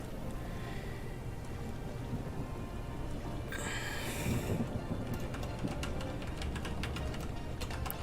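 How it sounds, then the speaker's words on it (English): Red rain weather effect in a video game, heard as a steady hiss of falling rain with a low rumble of thunder swelling midway and scattered drip-like ticks, no talk over it. "Or is it just a red rain effect?"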